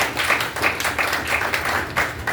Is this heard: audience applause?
yes